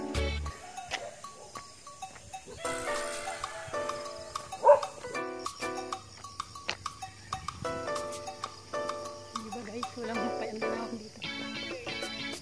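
Dogs bark at intervals along a rural village road during a morning walkathon, sharp barks near and far, with a few goats or sheep bleating and occasional background chatter mixed in.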